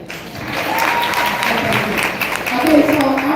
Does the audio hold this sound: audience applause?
yes